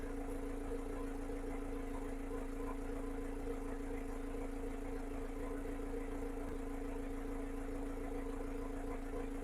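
A car engine idles steadily, a continuous close hum with a low, even drone and no breaks, after ticking over for a long time while its emissions are being sorted.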